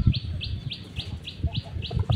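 Pigeons in a loft where a newly bought female Koka and a new male share the same spot, with a repeated soft call rising at a steady rhythm over low rumbling cooing. No speech.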